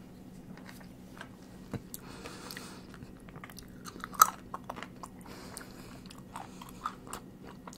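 Close, crisp bites and chewing of a crunchy trompe-l'oeil dessert with whole hazelnuts, irregular crunches and wet mastication clicks over a quiet low hum, with no talking.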